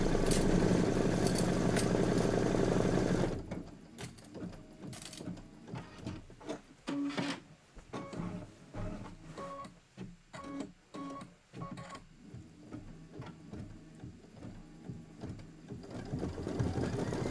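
Sewing machine stitching quilt fabric, a steady loud mechanical whir at first that gives way to quieter, intermittent stitching bursts with clicks and shifting material.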